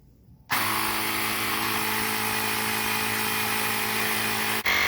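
A Cycplus A7 portable cordless electric tire inflator starts abruptly and runs with a loud, steady buzzing motor drone, then cuts out briefly near the end before restarting.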